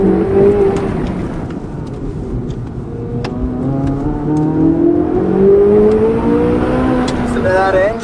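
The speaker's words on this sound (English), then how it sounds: "Listen to that engine, amazing." Chevy Corvette Z06 engine pulling hard on a race track, a loud close-up roar rising through the gears with shifts and rising pitch, while a person talks over it.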